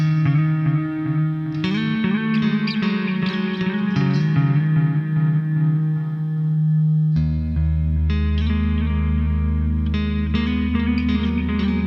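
Electric guitar through a Boss Katana MK2 amp with an echo effect, sustained chords and picked notes smeared by repeating delay and shimmering chorus, loud and alone.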